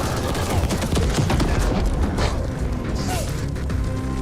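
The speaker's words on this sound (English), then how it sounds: "Figured out how to throw the grenades." Video game battle with grenades thrown, a loud dense barrage of explosions and gunfire booms throughout, continuous and close.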